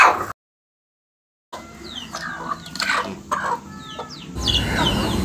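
A sick chicken with a rattling respiratory ailment clucks in a series of short, close calls after a brief silent gap, with some background rustling.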